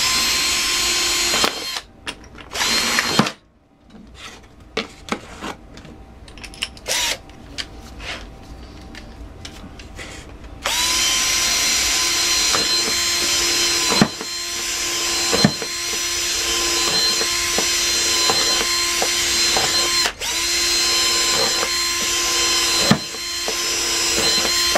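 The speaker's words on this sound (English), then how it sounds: "I'll go ahead and leave the lid on here while I drill the holes in the lid" A power drill whirs in repeated bursts, stopping and starting as it bores holes into a flexible plastic keezer lid, loud and close, with brief pauses between holes.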